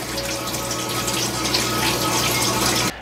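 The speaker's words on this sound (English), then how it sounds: "when the water returns to the nutrient reservoir at the bottom, it sounds like a fountain is operating" Water trickles steadily down a Tower Garden Flex hydroponic tower into its nutrient reservoir, a continuous fountain-like splashing with a low pump hum beneath, close and fairly loud, cutting off abruptly just before the end.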